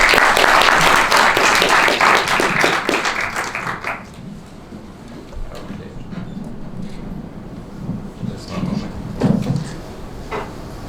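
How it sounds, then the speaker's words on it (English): An audience claps for the speakers at a panel on technology, democracy and authoritarianism, a loud burst of applause for about four seconds that quickly dies away into faint room noise and scattered sounds. "Please give them a round of applause"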